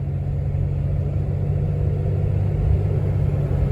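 A Cummins-powered truck cruises in fifth gear at around 45 mph, giving a steady, low engine rumble heard from inside the cab with no talking.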